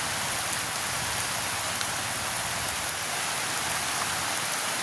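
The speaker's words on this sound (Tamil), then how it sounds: "வேணாம்மா மழையும் வந்துட்டுது." Steady rain pours down in a rural village, a dense, constant hiss of drops hitting surfaces with no break.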